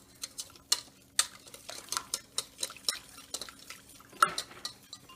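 Milk being whisked into a sauce in a pot for pastitsio, the whisk scraping and clinking against the metal in an uneven run of soft, close strokes with faint liquid stirring.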